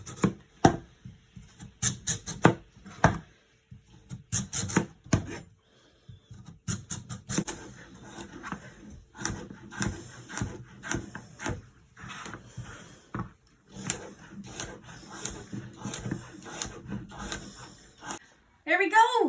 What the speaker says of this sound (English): So I'm just gonna cut these into strips.